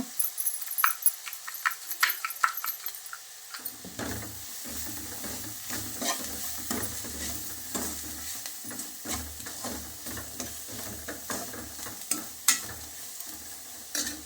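Jackfruit seeds fry with onion, salt and spices in a pan under steady sizzling, while a spoon stirs and scrapes in quick, repeated clicks throughout, close by.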